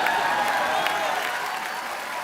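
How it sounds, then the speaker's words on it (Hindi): Studio audience of a comedy talk show applauds an incoming guest, a steady wash of clapping and crowd noise that holds evenly throughout. "उनके लिए जोरदार तालियां।"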